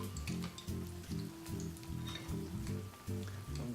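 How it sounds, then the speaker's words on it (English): Italian flat leaf parsley deep frying in very hot extra virgin olive oil, a steady close sizzle with crackling pops rising and falling in short surges. "we're just gonna drop it into some very hot extra virgin olive oil just to deep fry it"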